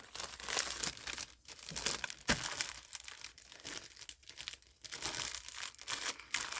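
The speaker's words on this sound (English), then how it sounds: "And then we'll just tape it down" Packing tape ripped off a roll and pressed down onto a cardboard box, giving loud crinkling, tearing bursts in uneven close-up strokes, with no voices.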